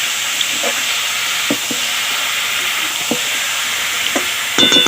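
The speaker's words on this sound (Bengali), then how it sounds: "এবার আমি কুচি ফুলটা ঢেলে দেবো" Boiled chopped taro flower tipped into a hot pan, a dense steady sizzle with occasional spoon taps and a sharp clatter of utensils near the end, close and fairly loud.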